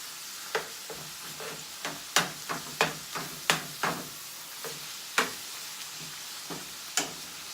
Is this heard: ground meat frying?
yes